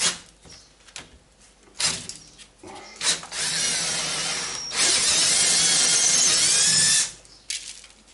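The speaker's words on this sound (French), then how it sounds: "C'est un forêt de 9, ça va être bien parce que après il faudra agrandir les trous" A power drill with a 9 mm bit enlarges screw holes in a throttle body for a Clio 3 RS. After short whirring bursts comes a sustained, loud whining run of several seconds.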